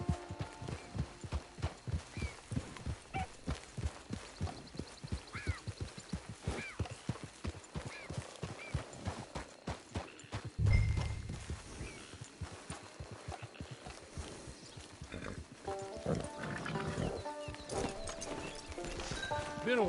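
Horse hooves clip-clop steadily at a walking rhythm in Red Dead Redemption 2, close and even, with a brief thump midway and a horse snorting near the end.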